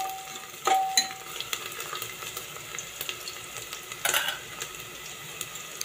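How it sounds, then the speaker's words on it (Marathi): Chopped tomato and onion sauté in a pressure cooker for dal khichdi, giving a faint, steady sizzle with a few scraping stirs and light metallic clinks. There is no talk. "हा टोमॅटोही आपल्याला छान परतून घ्यायचा आहे।"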